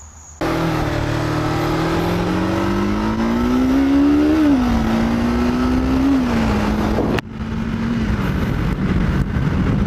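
A Kawasaki Ninja 500 motorcycle with an upgraded shock pulls away on a test ride, its engine loud and close, rising in pitch through the gears, with a brief drop at a shift before it climbs again.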